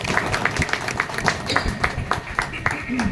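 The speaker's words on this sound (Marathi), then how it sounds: "एकदा लोकमान्यांसाठी जोरदार टाळ्या झाल्या पाहिजे" An audience at a lecture on Lokmanya Tilak and the Ganesh festival in a Girgaon chawl claps for Tilak, with scattered, uneven claps mixed with voices murmuring throughout at a moderate level.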